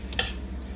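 Hotdog pieces being sautéed in a pan for spaghetti in tomato sauce give a faint steady sizzle, broken by one brief clink of a utensil against the pan near the start.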